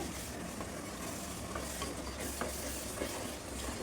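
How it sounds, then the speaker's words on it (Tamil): Onions and tomatoes sauté in a clay pot as the base for a fish curry, giving a continuous close sizzle with soft scraping stirs and no voices. "இந்த அளவு நல்லா வெங்காயம் தக்காளி வதங்கணுங்க."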